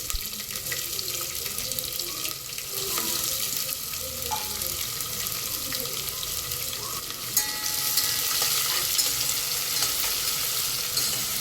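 Chopped onions frying in a pan for soybean biryani, a steady broadband sizzle with light stirring scrapes throughout, close and moderately loud, with no speech.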